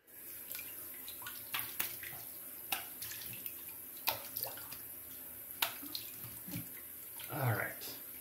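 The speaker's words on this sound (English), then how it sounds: "Let me rinse with some fresh water." Fresh tap water runs and splashes into a sink as a face is rinsed after a shave, a steady hiss broken by irregular splashes and a louder gurgle near the end.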